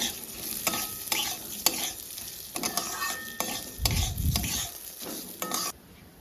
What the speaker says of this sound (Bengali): আমি এবার ডালটা তুলে দেবো দিয়ে ভালো করে একটু ভেজে নেব